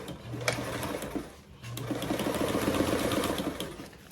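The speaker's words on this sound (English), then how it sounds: "stitch around your pocket with a 1-inch seam allowance" A sewing machine stitches around a pocket with a 1-inch seam allowance, its steady rapid whir running through the whole passage with a brief pause midway, fairly close and alone.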